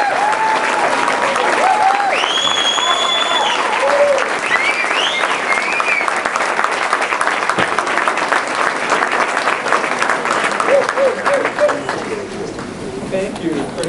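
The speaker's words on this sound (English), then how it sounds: "Please give a big round of applause to the father of metabolism" A seated audience claps for a speaker at a regional talk, a sustained round of applause with cheers and chatter mixed in, fading slightly toward the end.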